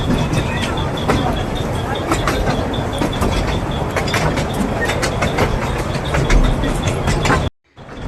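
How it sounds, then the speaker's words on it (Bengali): A small toy train carrying passengers rolls along with a rhythmic clickety-clack of wheels over rail joints, loud and close, before cutting off abruptly near the end. "ফাইনালি ছেড়ে দিয়েছে ট্রেন আমাদের।"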